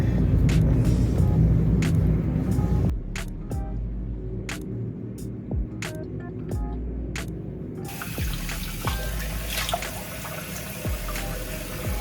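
Tap water runs into a sink during face washing, a steady splashing flow that drops to a quieter trickle partway through, punctuated by sharp clicks and taps of handling before the stream strengthens again near the end.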